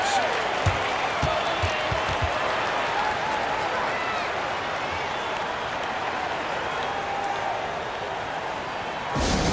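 Steady crowd applause and cheering from a large arena in the basketball video game NBA 2K25 fills the whole stretch, a dense continuous roar with scattered claps.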